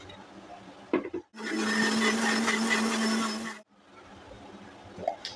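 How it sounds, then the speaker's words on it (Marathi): A mixer grinder whirs loudly for about two seconds, blending cooked spinach with ginger, garlic and green chili into a paste; a steady motor drone starts abruptly and cuts off, with quieter kitchen noise before and after. "मी यांची पेस्ट करून घेते"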